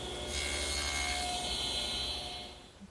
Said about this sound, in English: I'm just going to use my miter gauge to nibble away the material.